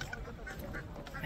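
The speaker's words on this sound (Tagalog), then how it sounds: "Tapos sa gilid man makikita kayong mga pato." Several short duck quacks scattered over a noisy outdoor background, with faint talk mixed in.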